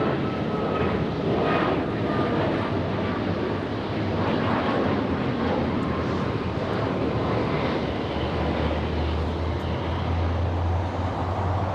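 An airliner departing LAX, a loud sustained jet roar that stays strong throughout with a deep rumble building toward the end, no voices.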